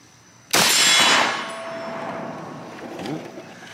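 A single sharp rifle shot from an M1 Garand followed by the metallic clang of a steel target hit, loud and close, with the ring decaying over a few seconds at an outdoor range.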